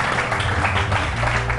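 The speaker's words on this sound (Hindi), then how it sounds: "वेरी गुड, इस पे तालियां होनी चाहिए." A studio audience on a Pakistani morning talk show applauds in a steady, dense wash of clapping that holds at an even level for the whole short stretch.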